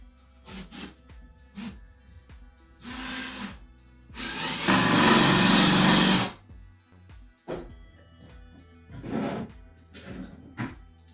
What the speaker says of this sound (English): let's go ahead and drill our rivets out of our clutch basket